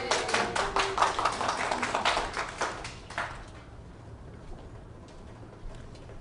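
An indoor audience at a quilting gathering applauds for about three seconds, a dense patter of claps that quickly fades into quiet room murmur.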